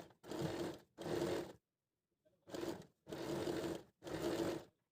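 A sewing machine stitches a collar in five close, loud bursts of rapid whirring with a short gap between each, and one longer pause in the middle.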